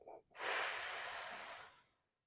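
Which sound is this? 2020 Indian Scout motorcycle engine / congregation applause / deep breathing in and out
deep breathing in and out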